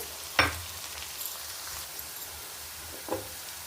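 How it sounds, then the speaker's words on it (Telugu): Sliced onions fry in a pan for a prawn curry, giving a soft, steady sizzle with two brief clattering stirs of a utensil, one early and one near the end. "ఉల్లిబంద కూడా వేగిపోయిందండి"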